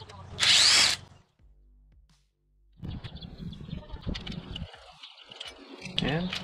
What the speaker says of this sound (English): So now basically we take out the camshaft bolt and take the camshaft out with the cam gear.